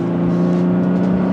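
A 2005 Aston Martin Vanquish S engine pulls hard under acceleration with a steady, loud, near droning note that holds throughout.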